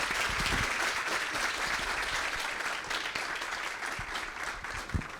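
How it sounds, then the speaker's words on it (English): Steady audience applause, many hands clapping in a dense, continuous wash that holds at a fairly even level throughout. "can we give Aaron a round of applause?"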